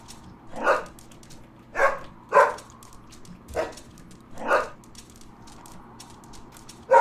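Dog barking in the video game Helltown: five or six separate barks spaced irregularly, fairly close and clear over a low steady background hum.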